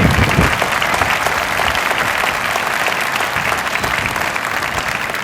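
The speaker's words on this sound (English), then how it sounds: "let's give her a round of applause." Sustained, dense applause from a large audience at a Law Day celebration honoring a chief judge, steady and loud throughout with no break.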